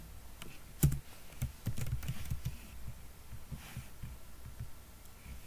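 Soft, scattered keystrokes on a computer keyboard while code for a database app is written, fairly faint over a low background hum, with one sharper click early on and looser tapping afterward.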